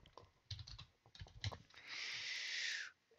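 Someone types a card name on a computer keyboard: a quick run of close, light key clicks in short bursts, then a steady hiss takes over for about a second before cutting off.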